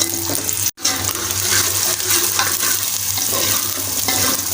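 A spoon stirs kulche browning in a hot frying pan, a steady close sizzle with scraping, broken by one brief silent gap near the start, with no voices.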